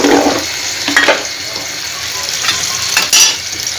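Prawns frying in hot oil in a pan while cooking bottle gourd with shrimp, a loud crackling sizzle with bursts of stirring and splashes, close up and with no talk.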